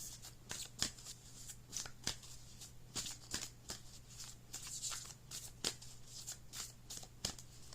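A Moonology Oracle card deck being shuffled by hand, a steady run of soft, crisp riffling flutters and light taps repeating in quick bursts, close and quiet with nothing else around it.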